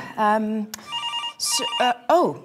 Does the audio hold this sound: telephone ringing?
yes